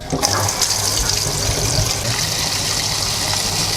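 Tap water runs steadily over limes being washed before a seafood lime salad, a continuous broadband gush and splash close by with no talking.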